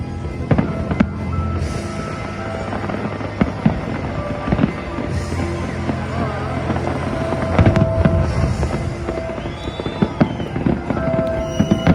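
Fireworks pop and boom repeatedly at a distance over the Chicago skyline at night, with scattered sharp bangs over a constant rumbling background.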